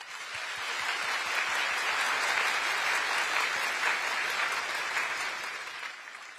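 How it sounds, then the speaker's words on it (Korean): An auditorium audience applauds trainees in a sustained, dense round of clapping that swells early, holds steady and tapers off slightly at the end. "여러분 다시 한번 우리 교육생들에게 격려의 박수 부탁드립니다."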